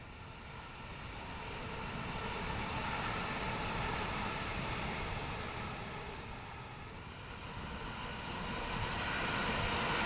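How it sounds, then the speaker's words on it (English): Train approaching in Train Sim World 2 on the Cathcart Circle line, a steady broadband rumble and rail roar that swells gradually, heard from a hillside with no talk. "This looks like a good hill to sit on to watch our train come."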